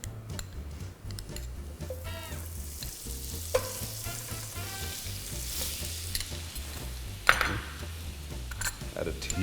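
A tablespoon of butter sizzling in a pan with salted egg yolk crumble, a crackling fry with light utensil taps and stirring while someone talks over it and low music hums underneath.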